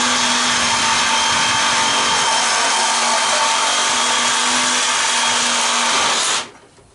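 A power tool cuts copper tubing out of an air conditioner being scrapped: a loud, close, continuous whine and buzz that holds steady for about six seconds, then cuts off abruptly and winds down.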